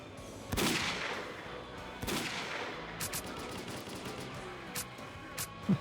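Gunfire with armor-piercing rounds in STALKER: Call of Pripyat: two loud, sharp shots a little apart, followed by several fainter, quicker cracks, some distant, with no talking.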